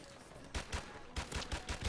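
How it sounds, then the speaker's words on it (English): Gunfire in Modern Warfare Remastered: two short bursts of quick, punchy shots with a low thump, the first two shots and then a faster run of about five, fairly faint against a background hum. "Shots on the low right."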